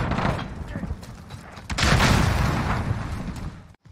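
A grenade goes off in a Call of Duty Modern Warfare match. A heavy boom rises about midway and swells into a loud, rumbling blast amid scattered gunfire and game noise before cutting out abruptly.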